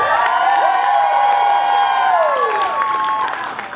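A convention audience at an anime dating-game panel cheers, whoops and shouts in a loud, sustained roar, with scattered clapping underneath.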